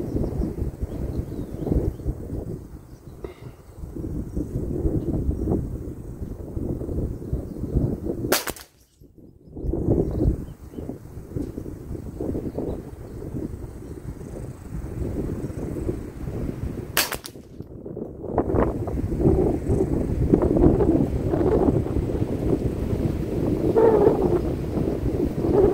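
Strong gusty wind buffets the microphone at an outdoor rifle range, a continuous loud low rumble and roar with two sharp breaks where the sound cuts out briefly, rising again toward the end; no talking.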